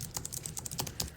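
Quiet typing on a computer keyboard, a rapid uneven patter of soft key clicks close by, with no voices.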